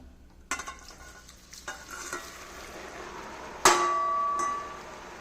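Rice-flour and butter balls dropped into hot oil over a low flame, a soft sizzle building after sharp utensil knocks, then a loud metallic clang and a sustained frying hiss near the end, close by with no voices.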